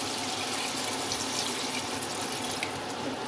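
Water pours steadily into a pan of fried potatoes and seeds for a Pakistani mutton kofta curry, a continuous close rushing splash with no voices.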